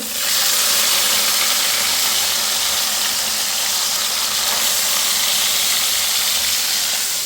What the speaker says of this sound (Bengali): কড়াইয়ে তেল গরম হয়ে গেছে আর মোরলা মাছগুলো এখন ভেজে নেব